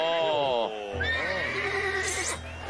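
A horse whinnies during a horse race, a long, loud neigh with a falling, wavering pitch that dominates the clip over a steady background.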